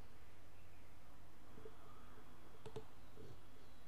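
A computer mouse clicks twice in quick succession, faint but crisp against a quiet hiss, with a couple of softer taps around it.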